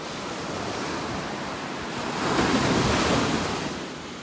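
Ocean surf rolls in at a beach in North Naples, Florida, a steady broadband wash of churning waves with some wind noise, swelling louder for a second or two near the middle before easing back.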